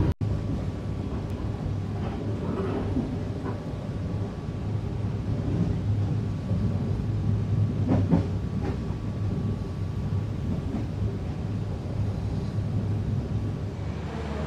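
An Indonesian Menoreh passenger train rumbles steadily along the rails, a continuous low roar with faint rhythmic clatter, heard from inside a moving economy carriage near Tegal station.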